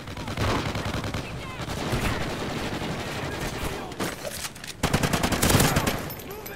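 Rapid automatic gunfire rattles almost continuously in a shooter video game, dense bursts that briefly pause and then resume louder toward the end.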